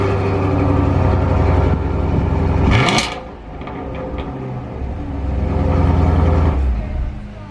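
A 2020 Chevy Camaro engine runs loud and close, rising to a sharp rev burst, dipping briefly, then building back into a strong sustained roar before settling.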